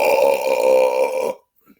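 A man lets out one long, loud, deep belch lasting over a second, close to the mic, followed by near silence.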